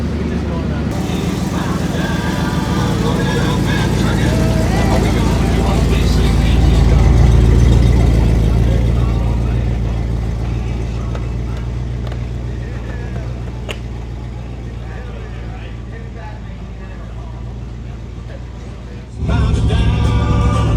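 A car engine runs steadily with a low rumble that swells briefly and then settles, close and continuous, while people talk over it.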